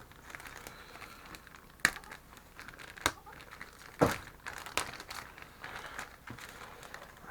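Thin plastic sheet over the decals of a Tamiya 1/35 Tiger I mid-production model kit crinkles close up, with a few sharper crackles standing out from a soft, steady rustle.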